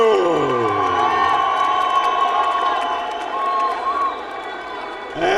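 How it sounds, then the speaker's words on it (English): Boxing crowd at a WBF heavyweight title fight in Harare, Zimbabwe, cheering and roaring steadily for a fighter's introduction, a loud dense mass of voices that swells at the end. "A big round of applause for"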